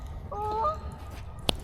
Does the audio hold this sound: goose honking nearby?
yes